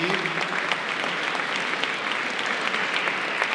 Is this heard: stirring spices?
no